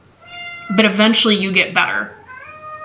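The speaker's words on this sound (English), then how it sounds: "excuse my cat, he's just lamenting" A pet cat meows and wails loudly through a stretch of close speech from a woman, its drawn-out cries rising and falling over her voice before the talk continues more quietly.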